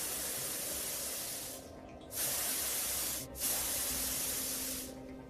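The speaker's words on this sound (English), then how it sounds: "now I'm gonna get the hairspray out and spike it for these horror punk bands" Hairspray hisses from an aerosol can as hair is spiked in a horror punk style. Close, loud bursts of spray come with two short breaks between them, and there is no talking.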